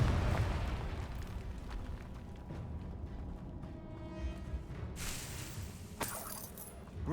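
A Confringo fire spell in Hogwarts Legacy sets off rumbling, crackling explosive blasts with a low boom and bursts of sharp debris-like crackle, moderately loud and continuous.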